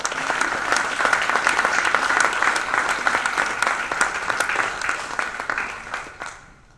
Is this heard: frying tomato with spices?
no